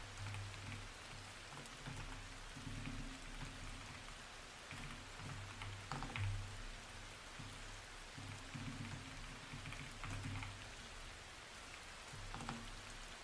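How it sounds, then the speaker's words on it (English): Steady rain patters on surfaces throughout, a soft continuous wash of drops with low rumbling underneath, heard alone without any talking. "Rain."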